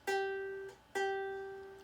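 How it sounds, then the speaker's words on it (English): Two clear plucks of the open top string on a ukulele, each a bright, ringing tone that decays slowly, sounding alone and close with a short gap between them. "All I'm doing is plucking that string"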